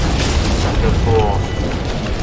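A heavy explosion in No Man's Sky booms with a dense, rumbling low roar that fills the short clip at high volume and ends in a faint descending whine.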